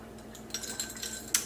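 A stainless steel straw stirring chai latte in a glass, a few faint close clinks and light rattles against the glass, the last one sharper, with no talking.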